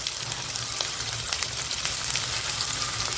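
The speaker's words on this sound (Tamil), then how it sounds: "கல் உப்பு தான் போடுறோம். வதக்கட்டும்." Onions sautéing in hot oil with rock salt, for a paneer gravy, give a dense, loud, close sizzle that crackles steadily throughout without pause.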